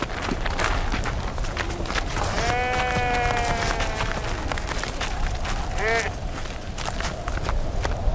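Sheep bleat twice, a wavering cry then a shorter one, over a busy background of scuffling hooves and movement.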